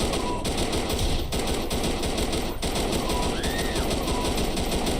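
Rapid machine-gun bursts ring out in a shooter video game, dense repeated gunfire that stays loud and continuous throughout, with occasional game effects layered on top.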